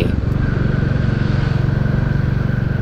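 A Royal Enfield Classic 350 motorcycle with its 349 cc single-cylinder engine thumps steadily at close range, a loud even pulsing throb running without pause.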